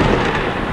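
Thunder in a comic animated skit, a dense, continuous low rumble and roar that fills the short moment at steady loudness with no voices.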